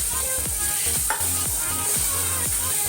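Toor and masoor dal tossed into roasted masala in a pan, rhythmic stirring strokes repeating about twice a second over a continuous loud sizzle.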